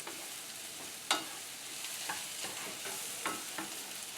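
Butter and smoked paprika cook in a pan with a steady soft sizzle, broken by a few sharper crackles and the scrape of stirring.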